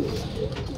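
Pigeons coo softly and continuously in a loft during deworming, a steady low murmur of overlapping calls that fills the whole short moment.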